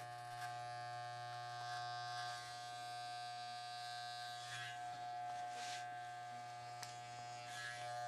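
Electric hair clippers shaving the back of a neck during a men's side-part haircut with a fade, a steady close buzzing hum that stays even throughout, with light changes as the blade moves over skin, no talking.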